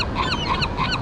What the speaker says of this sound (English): They're feeding the seagulls.